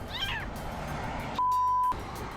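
A kitten stuck up a tree lets out a short, high meow near the start, fairly faint against steady outdoor background noise, followed by a brief electronic beep tone.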